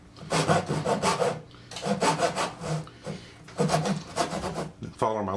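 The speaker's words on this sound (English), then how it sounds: "Saw down to the bottom of the dovetail on the corner." Lie-Nielsen carcass saw cutting a dovetail corner in wood: three bursts of rhythmic rasping back-and-forth strokes with short pauses between them, close and clear.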